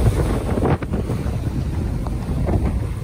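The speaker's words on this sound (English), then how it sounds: "We're gonna go up 80 mile per hour winds, gusts the last 24 hours up to 104." Strong wind near the summit of Mount Washington, around 80 mph with gusts up to 104, roars and buffets steadily across the whole stretch, a dense low rumble with a brief dip in the middle, no voices.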